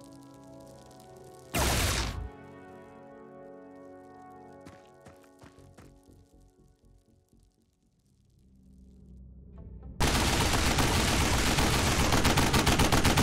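Gunfire bursts from the turn-based strategy game Xenonauts with the X-Division mod: a sharp loud burst early, a spaced run of lighter shots in the middle, then a dense sustained roar of automatic fire to the end.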